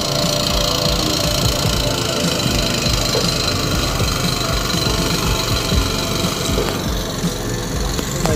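A boat engine runs on the Solimões river in the Amazon, a loud, steady, dense drone with rough knocking texture that holds continuously, close and uninterrupted throughout.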